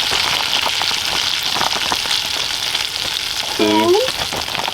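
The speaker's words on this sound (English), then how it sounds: "And that cooks until sugar is dissolved and nuts are toasted." Nuts toasting with brown sugar in a pan make a steady loud sizzle and crackle with scraping stir sounds throughout, and a brief tonal squeak near the end.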